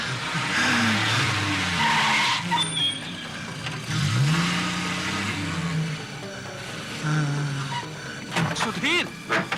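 Car tires skid and squeal in a tense horror drama scene, several loud screeching bursts with engine noise over about ten seconds, ending in a flurry of sharp squeals.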